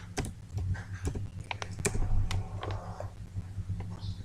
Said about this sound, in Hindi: सबसे पहले आपको ब्राउज़र में CBIC लिखना है।